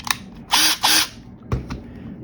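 A power drill drives a self-tapping exterior wood screw into a piece of test wood indoors, with two short whirring bursts followed by fainter clicks and a brief knock.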